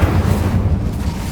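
An Incendio fire spell cast in Hogwarts Legacy gives a loud, close, sustained low roar of flame, rumbling steadily throughout.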